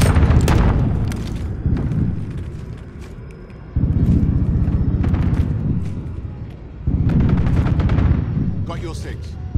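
In Call of Duty Modern Warfare, heavy gunfire from weapons such as the FN SCAR 17 and Renetti sounds as a loud, booming barrage. It comes in three sustained waves that each swell and fade, with a voice speaking over the combat.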